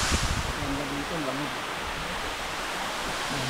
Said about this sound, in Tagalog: Ganda ng falls niya. Sobrang taas, eh.